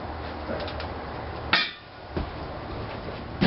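Hammer striking off weak welds on a kids' push go-kart frame: one sharp metallic hit near the middle and lighter knocks after it, all close in a quiet workshop with no talk.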